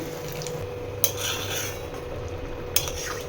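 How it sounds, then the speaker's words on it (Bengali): Semolina (suji) being stirred in a pan, with scraping and clinking of the utensil against the metal, including two sharp knocks, over a steady low kitchen hum. "এবার ব্যাস এটাকে ভালো করে নেড়ে চেড়ে নেবো আর একটু ড্রাই করে নেবো"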